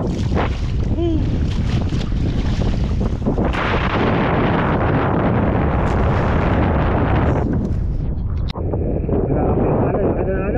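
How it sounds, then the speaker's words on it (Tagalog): Rough sea waves and strong wind buffeting a small boat out on open water, a loud continuous roar with wind hitting the microphone and heavy water surges, while voices call out over the din. "Grabe yung alon, kada alon."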